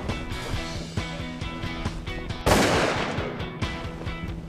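Shotgun blasts from a Browning Maxus auto-loader during a pheasant hunt, a rapid string of sharp reports followed by one louder, closer shot with a ringing decay.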